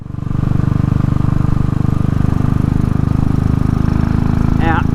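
A Royal Enfield motorcycle engine runs steadily on a test ride with fitted shrouded shock absorbers, a loud continuous throbbing drone with even pulsing throughout, and a brief faint squeak near the end.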